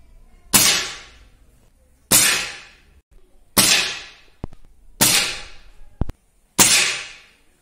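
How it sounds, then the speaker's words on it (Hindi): Five sharp, evenly spaced cracks from an NX200 air pistol firing 9-grain Apollo hollow point pellets, each shot loud and close with a quick fading tail, plus a couple of faint clicks between shots. "अब अपोलो होलो पॉइंट जो कि 9 ग्रेन में है, इसके 5 राउंड फायर करेंगे।"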